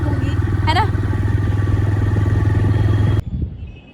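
A motorcycle ridden by a beginner woman rider runs with a steady, loud mid-pitched engine drone for about three seconds, then cuts off abruptly, leaving quieter rustling behind.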